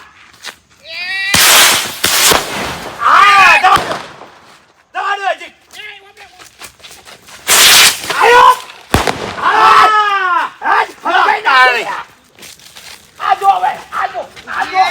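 Diwali firecrackers burst in two loud, close explosive blasts with crackling tails, separated by several seconds, while people shout and talk excitedly between the bangs.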